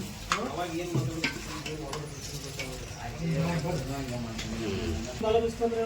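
Smashed tomatoes being stirred into a frying base for Roop Chand fish curry, with wet scraping and a light sizzle beneath a person talking throughout.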